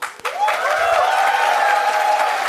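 Audience applause at an engineering convocation ceremony, a dense continuous patter of clapping from a large crowd that swells up after a brief start, with a voice speaking over it.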